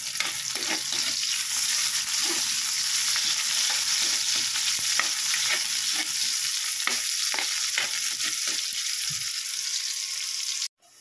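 Onion frying in oil with golden-browned garlic, a steady close sizzle with scattered stirring clicks for about ten seconds, then an abrupt stop.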